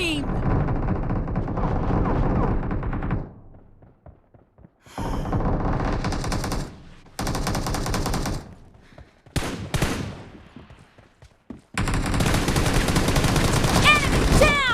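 Rapid automatic gunfire bursts in the mobile video game PUBG Mobile during a team deathmatch, loud dense volleys broken by short pauses, with game announcer voice lines mixed in.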